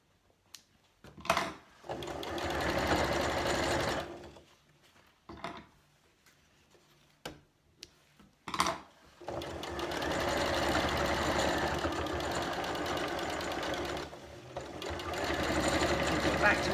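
A sewing machine stitches a noughts and crosses play mat in two runs: a short whirring burst, then a longer steady stretch, separated by quiet pauses with small clicks and handling sounds.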